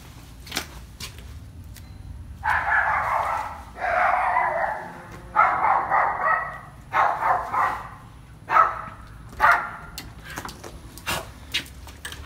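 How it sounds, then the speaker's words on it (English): A small Havanese dog barks repeatedly nearby, sharp bursts in uneven clusters with short pauses between them. "And Riley loves to bark."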